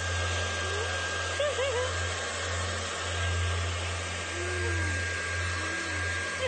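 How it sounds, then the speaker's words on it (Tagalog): A hair dryer blows steadily while someone dries their hair, a continuous close whooshing roar with a low hum that holds throughout; faint voices may be heard underneath. "Nagbo-blower daw siya ng buhok kasama ang kanyang anak"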